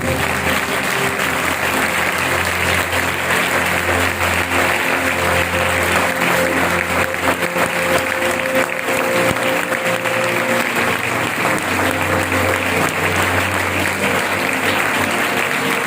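A church congregation applauds loudly and steadily for about sixteen seconds, a dense unbroken wash of many hands clapping with faint crowd murmur underneath.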